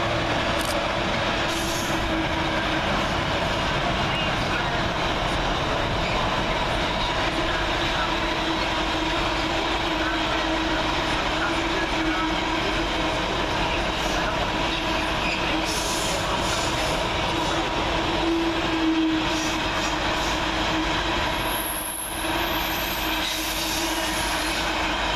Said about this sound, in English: Freightliners 66564 works a freight train from Lawley Street FLT to London Gateway.